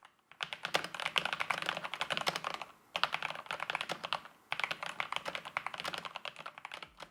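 Rapid clacking keystrokes from a Corsair K70 Core RGB mechanical keyboard with red switches and double-shot ABS keycaps, in three bursts separated by short pauses, crisp and close, with no voices.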